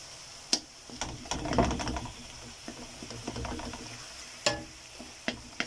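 Grilled eggplant being stirred into tomato sauce in a frying pan, with soft scraping and clacking of a utensil over a faint sizzle, close and quiet with irregular strokes.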